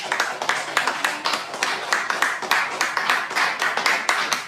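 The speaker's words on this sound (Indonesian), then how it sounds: "Boleh kita beri aplaus sedikit?" A small audience claps in a steady rhythm for a few seconds. The claps are brisk and fairly close, with no cheering.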